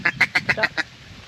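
A wild duck gives a quick run of six close, loud quacks in a steady rhythm, then falls quiet, with no talk over it.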